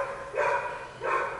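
Two clear barks from a dog outside, spaced about half a second apart, fairly loud and with no voices alongside.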